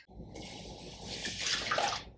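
Water and milk are poured into a bowl as a steady, close splashing stream lasting a couple of seconds.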